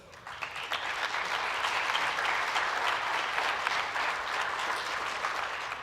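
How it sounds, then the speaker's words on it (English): Audience at a high school awards night applauds the school counselor: a dense, sustained wash of clapping swells quickly after a few scattered first claps and holds full and steady throughout. "I also need to give a huge round of applause to Misty Bliss"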